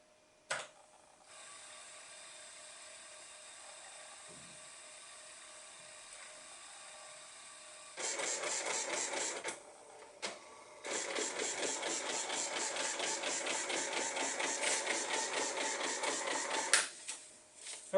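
A printer driven by a Sinclair QL computer starts up after a quiet stretch of faint whirring, then rattles out dense rapid mechanical printing in two long loud bursts separated by a brief pause.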